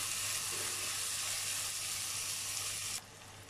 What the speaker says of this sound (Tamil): வெங்காயத்தை கொஞ்சம் வதக்கிக்கங்க.